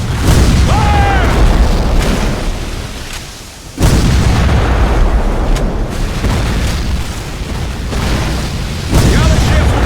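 Broadside cannon fire from wooden warships in a Civil War naval battle game, repeated heavy booms rolling together into a near-continuous loud roar with brief gaps, over battle noise and shouted commands.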